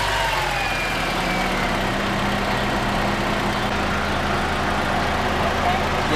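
An Acura TSX engine runs steadily with a low, continuous rumble while the steering is turned, suspected of a rack and pinion fault. The sound is close and constant throughout.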